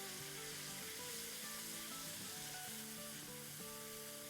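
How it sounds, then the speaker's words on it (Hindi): Spice masala cooks in a pan with stock while a steady, close sizzle and frying hiss runs throughout, alone, with faint tonal hum underneath. "थोड़ा सा इसमें ये स्टॉक डालेंगे और अब इसको हम भूनेंगे।"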